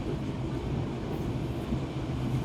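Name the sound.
Yangon-Mandalay train of Myanmar Railways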